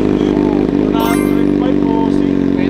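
A motorcycle with a loud aftermarket exhaust revving continuously at close range, a heavy rumbling drone with rising throttle bursts, while people talk over it.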